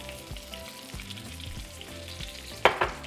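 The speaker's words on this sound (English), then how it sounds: "we're going to give it about 5 minutes for the potatoes to finish cooking" Cubed potatoes fry in oil in a pan for Mexican deviled shrimp and potatoes, giving a steady close sizzle throughout, with two sharp bursts of crackling near the end as the pan is stirred.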